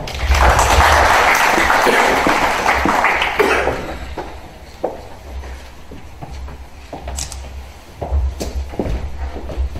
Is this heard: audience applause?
yes